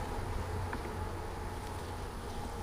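Honey bees in a hive under inspection hum in a steady, dense buzz that stays close and continuous, with no voices.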